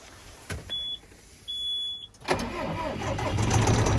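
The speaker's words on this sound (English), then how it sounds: "Start the tractor." A farm tractor engine starts after two short warning beeps, cranking and catching into a steady, close mid-pitched idle that carries on alone.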